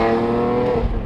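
A 2001 BMW E46 M3 with its naturally aspirated S54 engine revs hard toward 8,000 RPM, a loud, close, sustained rising engine howl with no talk over it.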